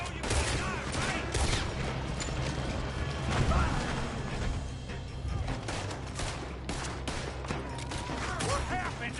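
Rapid gunfire crackles throughout a Red Dead Redemption 2 shootout, shot after shot in dense irregular bursts with booming low impacts, steady and loud with no quiet gaps.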